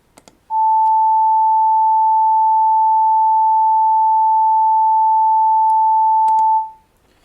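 A pure 880 Hz test tone sounds for about six seconds at a steady, loud level, then fades out, with a few faint clicks before and after and no talking.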